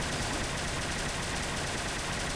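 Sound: modded weapon firing bazooka-like shots in video game Fallout 4

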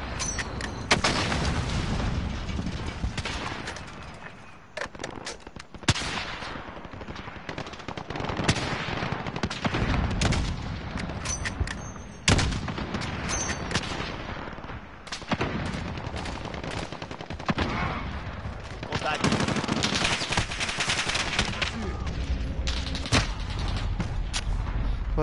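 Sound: gunfire in a shooter video game

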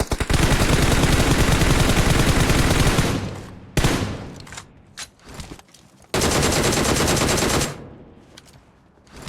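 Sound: gunfire in PUBG Mobile video game

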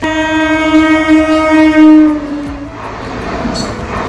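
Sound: train arriving at station, horn

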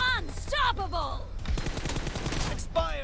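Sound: gunfire from PUBG Mobile video game

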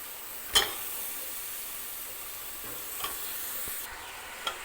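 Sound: masala being roasted and stirred in a pan for kappa biryani

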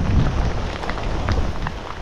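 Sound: heavy rain falling

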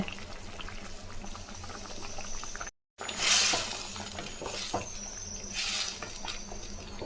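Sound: dried fish gravy (karuvadu thokku) simmering in a pan

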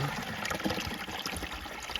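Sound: spring water flowing without a pump

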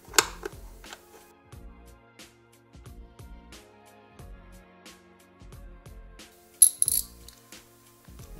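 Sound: tightening bolts with a ratchet on a Summit SP 850 snowmobile

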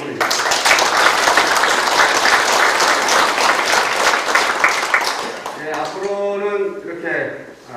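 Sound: audience applause at town meeting

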